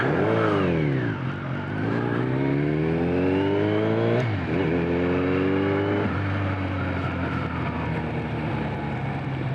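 A carbureted Kawasaki ZRX1200R inline-four motorcycle engine idles loudly and steadily, its revs rising and dropping in several slow swells as it warms up close by.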